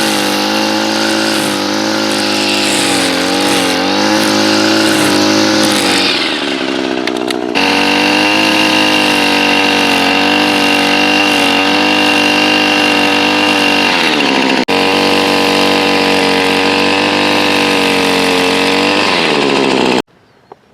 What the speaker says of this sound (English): I'm actually giving it quite minimal throttle, as I am breaking in the engine